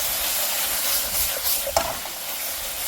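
Bacon and kimchi stir-frying with a pinch of chili powder, a steady close hiss and sizzle with a single sharp utensil scrape partway through; no voices.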